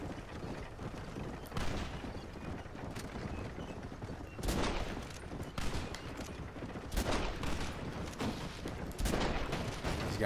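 Gunfire during a wagon chase in Red Dead Redemption, loud scattered shots cracking out every second or two over a constant rumbling background of hooves and movement.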